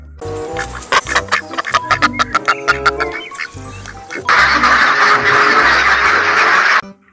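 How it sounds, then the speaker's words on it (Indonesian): A duck in the video game Jurassic World Evolution 2 quacks in a rapid series of short calls, then a longer sustained burst, loud and close over a soft musical background. "Wow, ada bebek."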